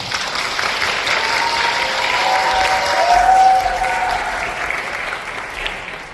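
Wedding guests applaud the bride and groom in a sustained, fairly loud wash of clapping that swells in the middle and eases off toward the end.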